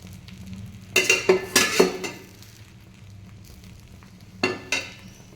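Egg bread fries in oil in a pan, a low steady sizzle beneath clusters of sharp utensil scrapes and taps in two close bursts, with no talking.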